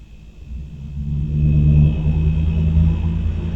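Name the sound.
vehicle coming down Blake Avenue and turning onto Taylor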